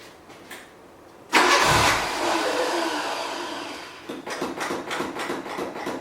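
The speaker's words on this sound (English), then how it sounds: "You want to just crank her without it connected, get the fuel pump going?" Engine of an abandoned Renault, left sitting nine years, cranking and catching briefly with a loud close surge, then fading into an uneven chugging crank, no talking.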